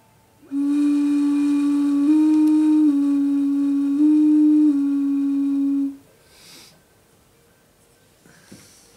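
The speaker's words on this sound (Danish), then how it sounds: "Se, de fløjter jo alle sammen" A large ceramic animal whistle, its clay blackened by firing in an oxygen-starved bonfire, sounds one deep, steady tone for about five seconds with slight pitch shifts, close and loud, then stops into near silence.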